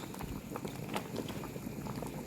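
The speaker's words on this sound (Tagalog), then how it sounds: "kulong-kulo na tong atin" Ginataang bilo-bilo coconut milk mixture boiling in a pot: a continuous close bubbling and popping with soft liquid patter, steady throughout and heard alone.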